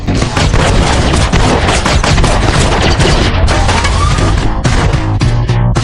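Dense, loud gunfire rattles continuously in rapid overlapping bursts, like a heavy firefight with booming impacts throughout.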